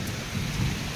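Heavy rain pours down with low thunder rumbling beneath it, a dense continuous roar of a downpour heard alone and close for a brief moment.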